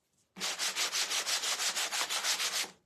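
Rhythmic sanding strokes rub back and forth over wood, a steady series of about fourteen close, scratchy passes with no talking.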